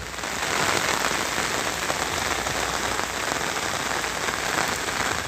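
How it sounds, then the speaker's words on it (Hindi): Steady heavy rain pouring down onto surfaces in a flooded, landslide-hit town, a dense unbroken hiss with no voices. "सिर्फ बारिश की आवाज है"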